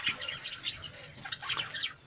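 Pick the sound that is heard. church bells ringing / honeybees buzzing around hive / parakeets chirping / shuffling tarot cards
parakeets chirping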